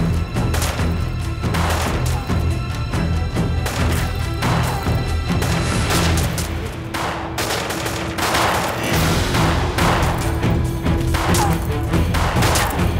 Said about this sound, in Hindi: पाशा, पाशा ये गोलियां हमें खत्म कर देगी।